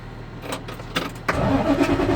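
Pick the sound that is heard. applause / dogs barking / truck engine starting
truck engine starting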